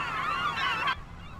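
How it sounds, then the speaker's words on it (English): Gulls in the video game Farming Simulator 25, on a Western Australia wheat farm, calling in a loud, harsh burst of overlapping honking cries that cuts off abruptly after about a second. "Those gulls go a little loud."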